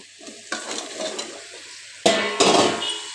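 Eggplant and potato dropped into spice paste frying in oil, giving a sudden loud sizzle burst, then a second strong hiss with scraping stirring, close and without talk.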